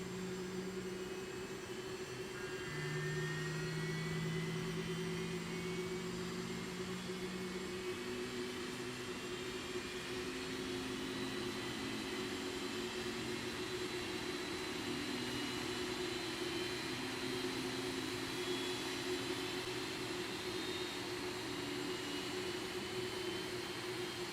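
Boeing 747-400 jet engines spool up in the X-Plane 12 flight simulator, a steady whining roar with rising tones as the engines start one after another, continuous and fairly loud, with no talking.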